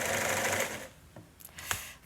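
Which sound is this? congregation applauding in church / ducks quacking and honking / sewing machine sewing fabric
sewing machine sewing fabric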